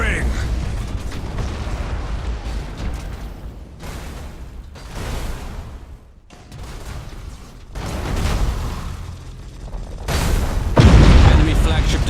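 Starship cannon fire and explosions in the Battlefleet Gothic Armada 2 game: heavy booming blasts and mechanical clanks roll in repeated bursts with short gaps, swelling into a loud rumbling impact at the end.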